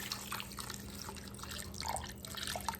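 Water is poured into a crock pot of red chili sauce for birria, a soft running trickle with faint drips and splashes over a low steady hum, fairly quiet and close.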